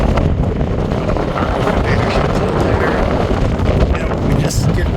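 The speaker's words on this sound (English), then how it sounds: "A little windy up here tonight." Strong evening wind roars across the upper deck of a Holland America cruise ship docked at Victoria, BC, buffeting the microphone with a loud, continuous rumble.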